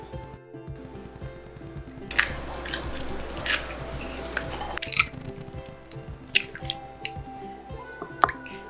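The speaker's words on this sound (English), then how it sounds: "start with 2 cups of unfed sourdough starter. Add 6 eggs to that." Six eggs go into two cups of sticky, unfed sourdough starter for crepe batter, making wet squishes, plops and drips up close, with a few sharp cracks and taps scattered through, and no talk.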